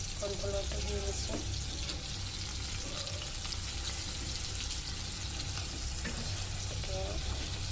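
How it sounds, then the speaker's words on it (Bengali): Chicken coated in cornflour frying in a pan, a dense continuous sizzle heard up close with a few faint voiced sounds and stirring clinks at the start and end. "কিছু চিকেন ফ্রাই করতেছি"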